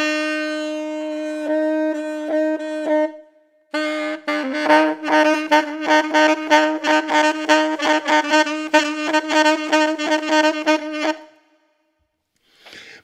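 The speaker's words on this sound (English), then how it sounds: "you play a normal C and you play a low C fingering with or without the octave key" An alto saxophone plays one repeated C, alternating normal fingering with the low C fingering, with or without the octave key. A held note comes first, then a fast run of pulsing repeated notes, played alone and close.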